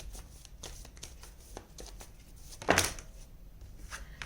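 Tarot cards are shuffled and drawn, with soft rapid riffling and flicking and one louder slap of a card near the middle, all close and quiet.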